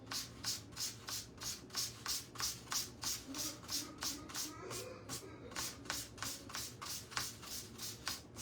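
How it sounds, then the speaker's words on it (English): Dried paint is sanded by hand with fine, low-grit sandpaper in steady rhythmic back-and-forth rasping strokes, close and moderately loud, with a short pause near the middle. "Or maybe I'll sand it, but just with a lot less gritty sandpaper."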